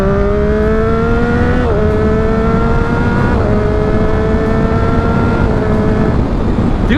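A 128 hp three-cylinder Triumph Daytona 675R motorcycle accelerates hard through the mid-range in second gear, its engine note climbing steadily with brief dips at each shift, loud and close throughout with no talking.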